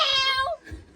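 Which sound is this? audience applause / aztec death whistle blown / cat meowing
cat meowing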